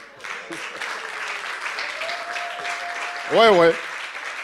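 A church congregation's dense, sustained applause for the children, a steady wash of clapping throughout with a voice speaking over it.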